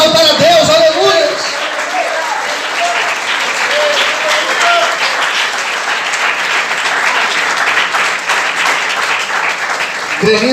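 A church congregation applauding during a Portuguese-language evangelical sermon, loud sustained clapping filling the room for about ten seconds with cheering and voices mixed in, steady throughout.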